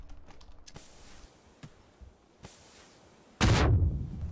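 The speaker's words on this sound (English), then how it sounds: "Throwing a grenade upstairs." A grenade in PUBG lands upstairs and bursts in one loud, sudden explosion after a few quiet seconds of faint clicks and ambience, its rumble and debris tail lingering to the end.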